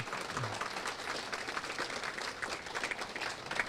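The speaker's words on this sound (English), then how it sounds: "Can we get a round of applause for our panelists tonight?" Audience applause for panelists at the close of a Green New Deal discussion event, steady dense clapping from a room of people, fairly faint and continuous.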